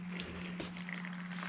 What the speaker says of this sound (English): Ooh, we got water.